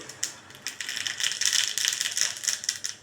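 Mustard seeds splutter and pop in hot oil up close, giving a dense run of sharp, rattling crackles that builds and stays busy for a few seconds with no voices.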